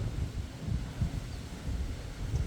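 Gusts of wind buffet the microphone outdoors where a parrot is being trained, a low rumbling roar that swells and eases in uneven pulses.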